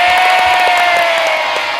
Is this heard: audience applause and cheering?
yes